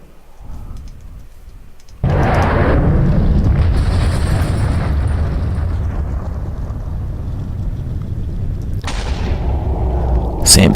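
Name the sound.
missile launch in Voltz mod pack, video game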